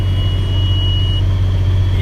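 A tractor engine runs during soybean planting, a loud, steady low drone with a constant hum, heard close and alone.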